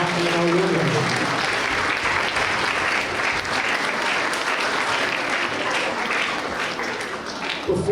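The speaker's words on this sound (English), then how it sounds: "One more big round of applause for our family members and friends who have come out and our award winners." A school awards assembly audience gives a long, steady round of applause, loud and even across the room, easing slightly toward the end.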